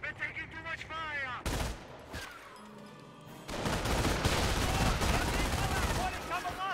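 Heavy gunfire in the World War II strategy game Company of Heroes, played on the Falaise Pocket map. Loud, overlapping volleys and automatic bursts rattle near and steady, with shouting voices heard early on.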